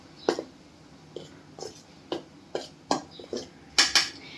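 Gram flour and rice flour being mixed in a bowl for palak bhaji, a spoon tapping and clinking against the bowl in a run of sharp, uneven strikes, close and with no talking.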